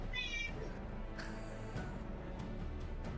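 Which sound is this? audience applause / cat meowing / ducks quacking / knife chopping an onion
cat meowing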